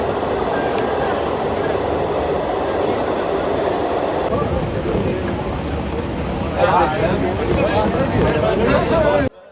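A passenger train runs through a railway tunnel on the Srinagar to Banihal line in Kashmir, a loud continuous rumble that shifts in tone partway through and grows harsher near the end, with voices faintly underneath.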